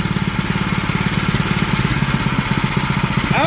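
A BILT HARD 7HP 212cc small engine runs close and loud with a steady, rapid chugging throb as its throttle is opened slightly, with a brief rising rev at the very end.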